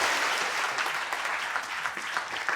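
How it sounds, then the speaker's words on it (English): Steady, dense applause from a crowd, many hands clapping continuously at an even level throughout. "a big round of applause for Dora."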